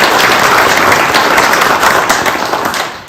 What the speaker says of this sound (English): let's give a round of applause to the Lincoln Trail Area Development District